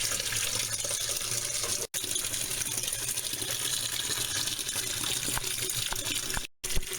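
Water runs steadily from a tap while tights and leotards are washed, a continuous loud gushing stream for several seconds that cuts out twice briefly.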